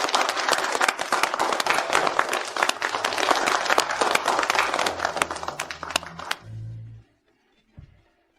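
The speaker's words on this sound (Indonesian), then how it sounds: "Mari kita berikan tepuk tangan." A large audience applauds in a dense, sustained wash of clapping that fades out toward the end, followed by a short low thump and near silence.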